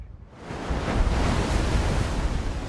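Storm-driven sea and wind at Peterhead harbour, a broad rushing roar of surf and gusts that rises in the first half second and then holds steady and strong.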